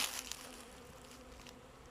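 A steady, low drone of many honeybees humming around hives in spring, continuous and moderately faint, with a brief louder rustle at the start.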